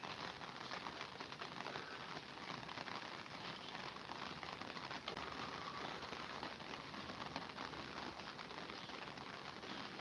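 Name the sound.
rain falling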